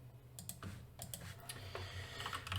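Keystrokes on a computer keyboard tapped in a short burst of irregular clicks over a steady low background hum, close and moderately loud, with no talking.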